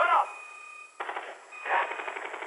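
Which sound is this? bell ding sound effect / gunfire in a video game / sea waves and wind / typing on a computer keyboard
gunfire in a video game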